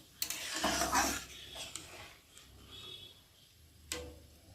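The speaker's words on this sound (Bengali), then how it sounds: "একটু ভালো করে নেড়ে দেবো" A spoon stirs egg pilaf in a pot just after water goes in, giving soft scraping and clinking against the metal, with a few sharper taps near the start and end, close and fairly quiet.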